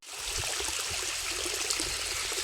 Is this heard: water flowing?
yes